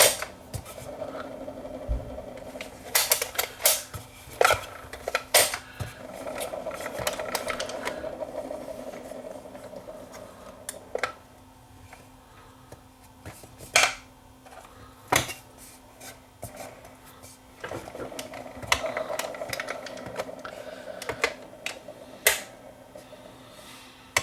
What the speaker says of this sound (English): flip it to auto, it should pick up, which it does, and it should present for a record. If I click it to stop